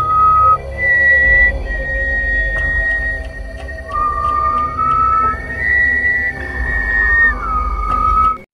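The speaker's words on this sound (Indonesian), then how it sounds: "Mang Ujang bersiul lalu disaut siulan warga yang lain." Long, clear whistles ring out, one voice whistling and others answering with sliding, overlapping notes above a low rumbling background.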